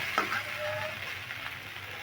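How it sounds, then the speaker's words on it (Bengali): Spices and vegetables fry in a hot wok for a vegetarian papaya and potato curry with chana dal, giving a steady close sizzle with a faint stirring scrape, alone for two seconds. "দেখো আমি দু মিনিট খুব ভালো করে ভেজে নিলাম দেখো কড়াইতে এরকম লাগা লাগা মতন হবে"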